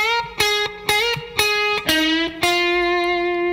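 Distorted electric guitar plays a short intro phrase: five sharply picked, vibrato-laden notes in a bouncing rhythm, ending on a held, ringing note, loud and close with no voices.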